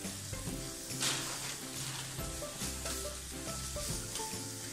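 Chopped onion sautés in a pan with a bright, steady sizzle, broken by close spoon scrapes and taps as it is stirred. No one speaks over it.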